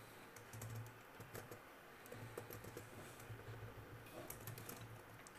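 Steady typing of Python Django backend code on a computer keyboard, a quiet, close patter of clicks in uneven bursts over a low background hum, with no one speaking.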